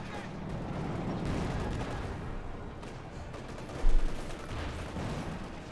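Gunfire from a machine gun team pushing up in a Company of Heroes 2 World War II strategy match, dense bursts of shots and battle noise with one louder boom near the end.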